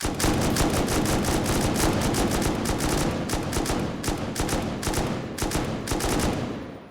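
Rapid bursts of heavy gunfire hammer a wall during a base raid in a video game, loud and close, with sharp shots packed into dense volleys and brief gaps between them.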